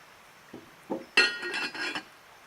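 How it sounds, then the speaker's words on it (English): A cast-iron Dutch oven is set onto a stone in a campfire, giving a few close metallic clinks and knocks that build into a brief, brighter clatter before stopping. "I'm going to try to set the Dutch oven on that and then see what happens."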